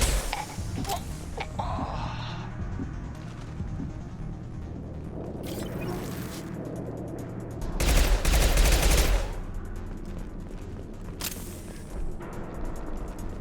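Gunfire in the Mass Effect 2 video game: a string of sharp shots and rattling bursts over a steady rumbling backdrop, with a loud sustained blast of fire near the middle and scattered cracks before and after.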